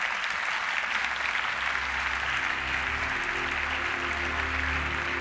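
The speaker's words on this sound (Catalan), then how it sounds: "Un fort aplaudiment." Sustained, dense applause from a crowd at a cultural awards ceremony in Igualada, steady and loud throughout without a break.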